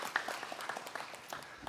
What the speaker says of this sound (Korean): 다시 한번 인사할 때 큰 박수로 또 보내드리고 또 환영하도록 하겠습니다.